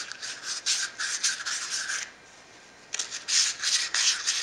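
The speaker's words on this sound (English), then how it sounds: "I'm not polishing these bores like crazy" Abrasive polishing inside rusty engine cylinder bores gives close, raspy rubbing in bursts of quick back-and-forth strokes. A brief pause interrupts the strokes midway, then they resume.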